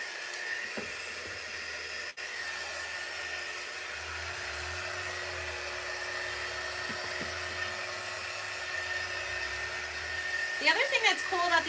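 A hair dryer runs steadily, drying a craft project, a tablet stand, as a continuous airy whir that holds at one level throughout and grows a little rougher near the end.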